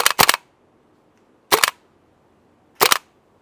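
Airsoft gas blowback rifle with a heavy bolt firing semi-auto, three sharp, loud mechanical cracks spaced about a second and a half apart, each a quick double snap of shot and bolt cycling, with near silence between.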